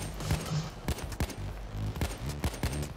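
Bursts of gunfire from the video game Payday 2 crack in quick, uneven clusters of sharp shots, fairly quiet and without speech.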